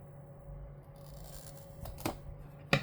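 Scissors snip through a paper cover in a few quick, close cuts toward the end, following a quiet stretch of soft handling.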